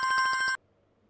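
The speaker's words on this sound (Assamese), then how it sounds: "কাৰ ফোন আহিলোঁ?" A telephone ringtone sounds loudly in a rapid, pulsing electronic pattern for about half a second, then cuts off abruptly into near silence.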